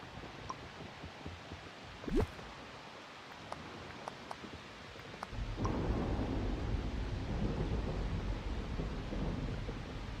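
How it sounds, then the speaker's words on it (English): Thunder and rain in the video game Disney Dreamlight Valley: a soft rumble with a sharp crack early on, then a steady hiss of rainfall that fills the second half, heard alone without talk. "I don't get why it's been raining so much in my valley recently."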